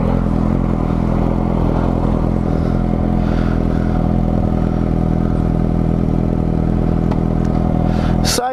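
A new Suzuki GSX-S750 four-cylinder motorcycle rides along with a steady, loud engine drone and road rumble, holding an even pitch throughout with a short rise near the end.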